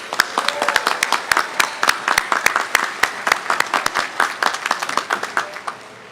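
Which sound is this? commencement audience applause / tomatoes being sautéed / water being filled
commencement audience applause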